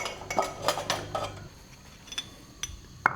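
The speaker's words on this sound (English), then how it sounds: "I'm adding in these subtle sounds, like me turning on the stove and me clanking the dishes" Dishes and cutlery clank in a quiet kitchen in the jungle: a quick run of bright clinks at first, then sparser single knocks, close and alone with no talk.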